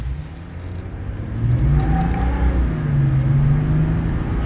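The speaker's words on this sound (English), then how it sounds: "Let's go ahead and see how this ZR2 does for 0 to 60." A 2024 Chevy ZR2 pickup with the Duramax LZO diesel and 10-speed transmission accelerates hard from a stop to 60 mph, its engine rising into a loud, steady rumble heard from inside the cab.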